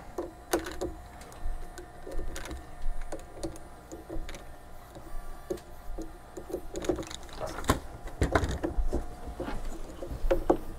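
Stepper motor of an Anet ET4-Pro 3D printer moving during belt tensioning: a faint steady motor whine runs under irregular clicks, knocks and handling noises close by.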